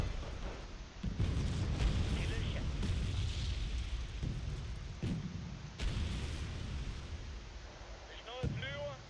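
Artillery shells booming in a tank battle video game, a series of heavy muffled blasts and rumbling impacts spread across the moment, with a player talking over the explosions.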